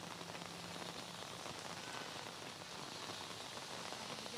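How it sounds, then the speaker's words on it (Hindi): Heavy monsoon rain pouring down in Delhi NCR, a steady, dense hiss of drops striking surfaces with no pauses, loud and close, with no voices. "झमाझम बारिश हो रही है और छतरी लेकर आप इस वक्त रिपोर्टिंग कर रहे"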